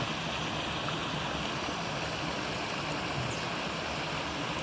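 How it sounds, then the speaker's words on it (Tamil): Steady rushing water of a stream, continuous broadband flow with no pauses, close and fairly loud, no voices. "தண்ணி இப்படி போகுது"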